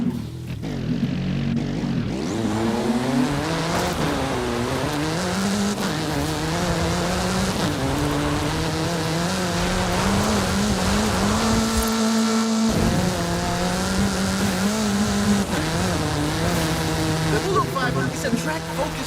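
A Vuhl track-focused supercar races in Forza Horizon 5, its engine note loud and continuous, rising and falling through the gears with shifts and revving sweeps throughout.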